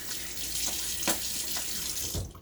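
Tap water runs steadily into a sink during a wet shave, a continuous broad splashing hiss with a few small louder splatters, close and without talk.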